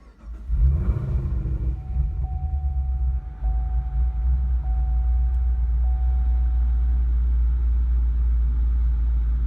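A 650 hp 2016 Chevrolet SS engine cranks and catches with a burst of revving, then settles into a steady, loud low idle with a faint whine.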